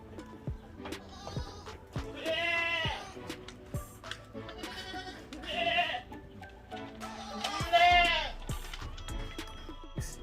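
Boer mix goats bleating on a goat farm, several loud wavering calls spaced over a few seconds amid faint background clatter.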